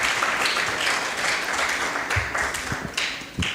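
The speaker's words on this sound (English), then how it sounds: "a big round of applause to all of you who are present here" Audience applause at an investiture ceremony for a managing committee: dense, steady clapping from a room full of people, with a few louder individual claps standing out near the end.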